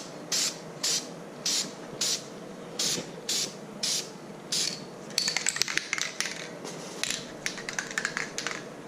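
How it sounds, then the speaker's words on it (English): An aerosol can of clear coat is shaken in about eight evenly spaced rattling strokes, then short hissing bursts lay down a light first coat, close by and fairly quiet. "let me get this can shook up and spray on the first coat"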